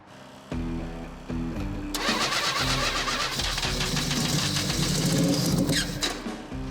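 A factory Mazda rotary race car engine cranks briefly, then catches and roars to life, settling into a loud, rough, rapid idle that stays steady throughout.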